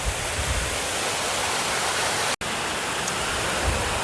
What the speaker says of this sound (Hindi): आज मैं क्या कर रहा हूँ कि मैं पानी कुएं में डाल रहा हूँ